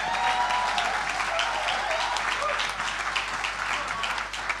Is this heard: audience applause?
yes